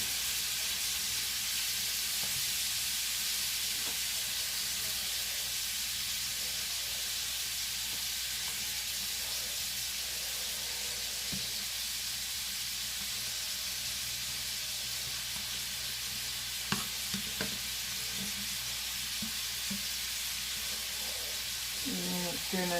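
Shrimp frying in a pan for shrimp and grits, seasoned with Creole seasoning, a loud continuous sizzle and hiss with a few clinks near the end as the shrimp are turned.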